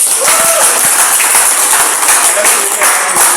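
Applause from a group of people, a steady wash of clapping that fills the whole moment at an even, fairly loud level.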